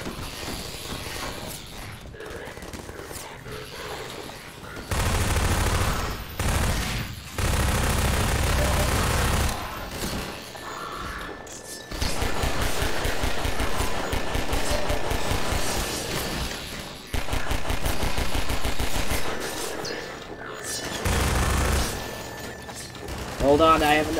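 Automated turrets fire in Half-Life 2 at the Nova Prospekt prison, dense bursts of rapid gunfire coming in loud stretches with short gaps and layered with other combat noise.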